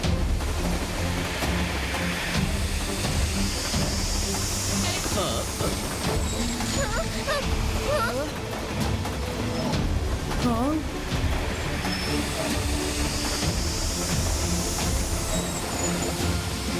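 A train rumbles steadily along the rails in an animated cartoon, a continuous loud clatter with occasional squeals, while characters talk over it.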